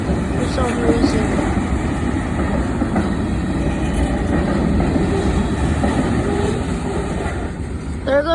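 A long southbound CSX manifest freight train rolls steadily past nearby, a continuous rumble with rhythmic clickety-clack of wheels over rail joints that lasts the whole stretch.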